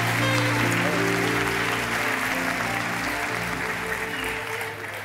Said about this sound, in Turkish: Alkışlar kardeşimize gelsin.